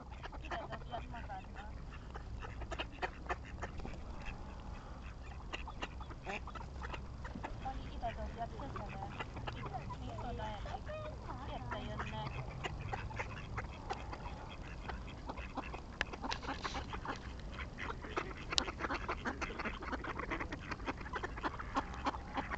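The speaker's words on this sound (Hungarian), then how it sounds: "Sok pecsenye kacsa." Ducks quack steadily while being fed bread by hand at a pond, several birds calling close by in overlapping bursts over constant outdoor background noise, with people talking now and then.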